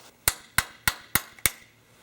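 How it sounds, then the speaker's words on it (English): A hammer strikes a large lab knife wedged between plaster and a dental stone model, giving five sharp, evenly spaced metallic taps up close, each decaying quickly. "placing a large lab knife in between the plaster and the stone model and strike it with a hammer to separate them"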